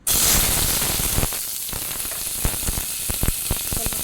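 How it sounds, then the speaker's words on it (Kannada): Chopped onion fries in hot sunflower oil for chicken biryani, hissing loudly at first and then settling into a steady sizzle with frequent crackling pops. "ಈಗ ನೀರುಳ್ಳಿ ಚೆನ್ನಾಗಿ ಫ್ರೈ ಮಾಡ್ಕೊಳ್ಳುವ"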